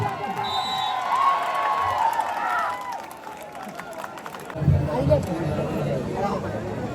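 Crowd at a tug of war match in Edappuzha, Kannur, Kerala, clapping and cheering in a noisy, rising roar, with an announcer talking loudly over the din throughout.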